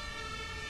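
Wailing emergency vehicle siren in the Train Sim World 2 railway game, a steady, fairly quiet tone sustained under background rumble with no talking.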